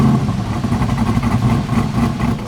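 C8 Corvette fitted with a Borla exhaust and a cam, running a burble tune, gives off a loud, steady, throaty rumble with choppy pulsing close by, with no voices.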